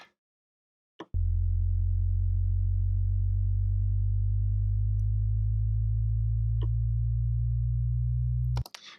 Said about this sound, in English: it's basically just a really low sine wave that begins to rise and rise and rise